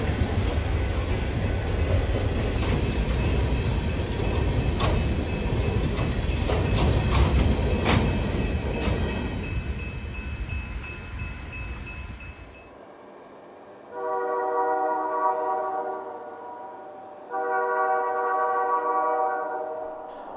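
A train slowing for a curve speed restriction on the approach to Andale, a long loud rumble and rattle of the cars that fades out, followed by two sustained tonal horn-like blasts.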